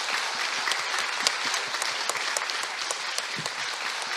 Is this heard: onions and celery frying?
no